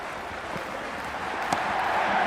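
Video game crowd noise from Cricket 26, a broad steady roar of spectators cheering and applauding at a cricket match, continuous and fairly loud throughout with a brief sharper burst midway.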